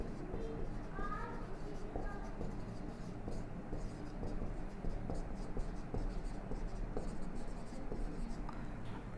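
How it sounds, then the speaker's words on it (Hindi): Pen or marker scratching across a board or paper during a lesson, a steady soft scraping that runs throughout under a low background hum. "तो यहाँ लिख सकते हैं"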